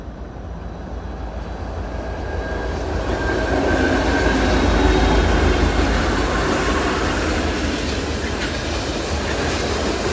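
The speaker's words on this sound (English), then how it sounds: "here comes our train" A passenger train rolls past a beach at Edmonds, a loud steady rumble with rail clatter that builds and holds for the full stretch, near and unbroken, with no voices.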